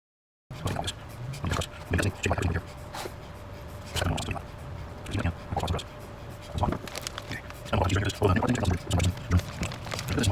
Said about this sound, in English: So, spreading the pizza sauce.